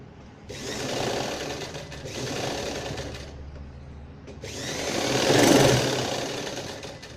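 A sewing machine stitches through five stacked layers of gown fabric, running in three steady bursts with short pauses between them, close and fairly loud, the final run the strongest.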